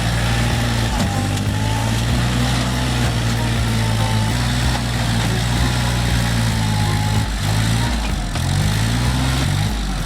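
A Case IH JX110 tractor stuck in mud runs its engine loud and close, a low droning rumble whose pitch dips and rises as it labours, with no talk.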